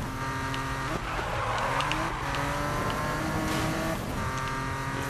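Race car engine in Need for Speed 2015 roaring steadily under a nitrous boost, a loud sustained rising whine with layered harmonics, revving surges and a brief tire squeal, with no talking.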